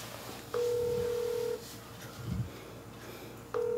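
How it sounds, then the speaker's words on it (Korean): A phone dials out with a run of steady electronic tones: a long beep, a pause with a faint muffled thump, then another beep starting, clear and close with no talk. "술에 취하면 아들에게 전화를 걸곤 한다는 어머니"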